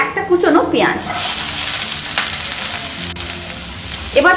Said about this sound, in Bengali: এবার পেঁয়াজটাকেও 1 মিনিটের মতন ভেজে নিতে হবে।